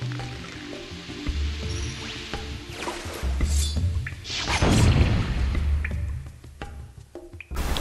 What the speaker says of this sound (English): let's plant a bomb spore and we'll blow it up and see what's inside